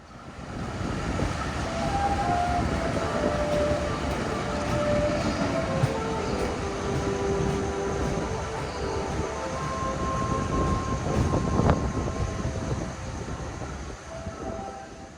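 Tawang Jaya passenger train on the Jakarta–Weleri run in Indonesia, rolling along with a steady, loud rumble of wheels and carriage noise, faint rail clatter and drawn-out metallic squeals, with no voices.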